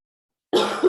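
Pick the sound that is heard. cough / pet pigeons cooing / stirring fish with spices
cough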